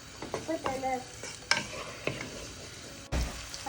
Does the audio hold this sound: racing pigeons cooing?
no